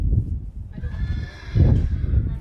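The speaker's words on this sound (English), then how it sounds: "Both the horses, both Baby and Midnight, are what we refer to as Lakota war ponies" A Lakota war pony neighs at an outdoor powwow gathering, a close, loud whinny rising over soft thudding hoof and crowd noise in the background.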